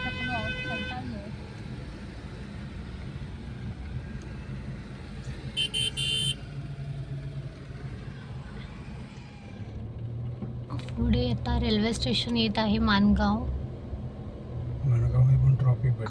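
Traffic rumbles steadily on the Mumbai Goa highway near the unfinished Manganv bypass, with a brief horn-like tone and louder passing-vehicle surges toward the end, while a person speaks over it.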